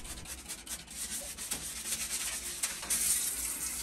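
Steady rough scrubbing, a brush rasping back and forth over the hard grooved rails of a sliding door, close and fairly quiet with no talking.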